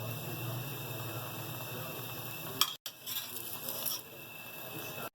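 An aloo paratha cooks in ghee on a griddle with a quiet, even sizzle close by. The sizzle cuts out briefly twice.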